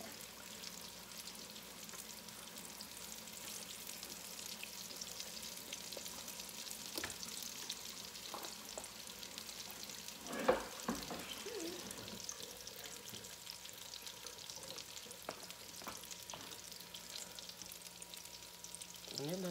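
Potato cakes frying in a pan, a soft continuous sizzle under a quiet, low-level background, with a few faint clinks and one sharper knock partway through.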